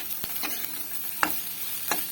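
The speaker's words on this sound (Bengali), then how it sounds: "ভাজা মশলা, দিয়ে এটিকে আবারও নেড়ে নেব।" Spatula scrapes and stirs through frying chickpeas and potatoes, a few distinct scraping strokes over a steady soft sizzle.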